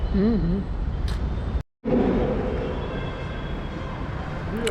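A new Jaipur Metro train heard from an elevated spot, a loud continuous rumble and rolling hum with a brief cut partway through, with a voice faintly present.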